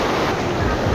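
Ocean surf washing onto a beach as the tide comes in, a steady, loud broadband roar of breaking water with some wind buffeting the microphone.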